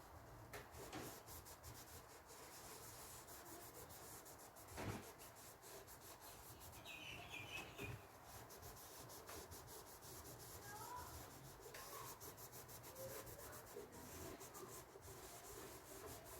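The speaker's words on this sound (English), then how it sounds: "make sure your transfer's burnished. That's using a microfiber cloth." A microfiber cloth rubbed gently over a furniture transfer on a painted wooden surface, faint continuous rubbing strokes in an even back-and-forth rhythm, close and quiet, with no talking.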